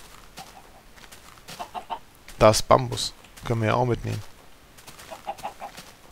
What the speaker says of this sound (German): Ein Hühnerstall oder was?